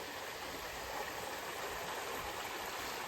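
A waterfall stream rushes nonstop beside a forest hut, a dense, even wash of water at close range with no voices.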